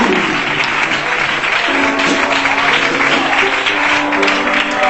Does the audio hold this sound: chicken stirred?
no